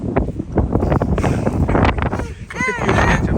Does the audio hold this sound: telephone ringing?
no